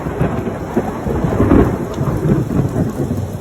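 Loud thunder rumbles close through a steady downpour of rain pattering on surfaces, the rumble swelling midway and then easing, with no voices.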